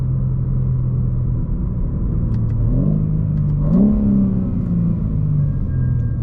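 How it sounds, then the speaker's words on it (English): BMW M3 fitted with an IRL midpipe and downpipes, heard from inside while driving: a steady low exhaust drone rises sharply in a couple of quick rev blips during an aggressive downshift, then settles back to a loud, close rumble. "That downshift was a bit too aggressive."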